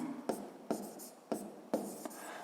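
Pen strokes on paper as numbers for a fifth-grade maths exercise are written by hand, four short quiet scratching bursts spaced about half a second apart, with no talking.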